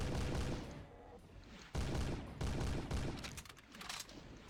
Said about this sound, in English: we now have what is essentially a sniper shotgun